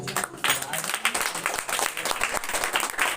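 Audience clapping at a school prize distribution ceremony, a dense steady round of applause that carries on throughout with some voices mixed in.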